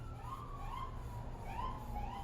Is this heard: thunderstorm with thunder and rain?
no